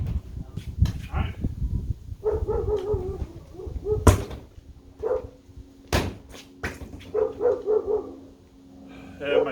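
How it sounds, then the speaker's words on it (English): A pet dog barks in several short bursts at a moderate distance during a solo practice session, with sharp knocks and thumps between the barks and faint talk around it. "And my dog is barking like a mad fiend for some stupid reason."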